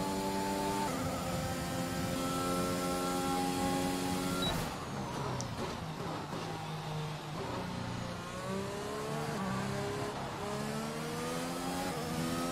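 A race car engine in a racing video game on an Australian track holds a steady high whine that shifts gear and climbs again while revving, loud and continuous with no voices.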